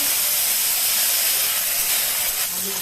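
Hot oil hisses and spits loudly and steadily as tempering spices and cut okra go into the pan for a mixed-vegetable tok, a dense sizzle filling the whole clip with no talk.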